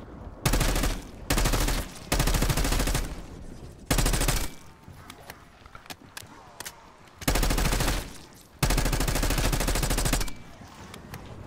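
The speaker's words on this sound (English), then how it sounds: "That was bad shooting." Automatic gunfire from the Black Ops 6 Zombies game on the Terminus map rattles out in several loud sustained bursts, separated by short quieter gaps of game ambience.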